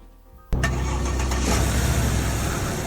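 A video-game VW with a Porsche engine, based on the 959, starts with a sudden crank and catches into a loud, steady mid-pitched idle rumble that holds close and even.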